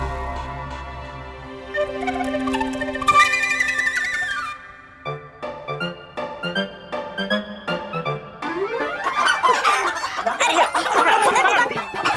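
Chickens cluck repeatedly in short, irregular bursts, and a rooster crows loudly near the end, close by and without talk.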